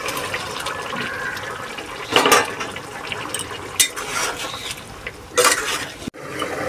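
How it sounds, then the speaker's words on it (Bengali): Pointed gourds go into boiling water in a cooking pot, with a bubbling, watery background and a few louder splashing, scraping bursts as the vegetables drop in and are stirred, and no talking. "ফুটে উঠেছে, দিয়ে দিচ্ছি পটলগুলো।"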